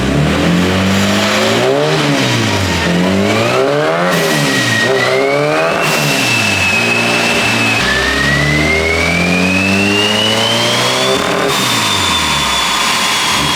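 A turbocharged Honda K-series engine in an S14 revs hard on a dyno under boost, loud and continuous, with repeated rising and falling sweeps, a climbing turbo whine and a sustained high-rpm pull near the end.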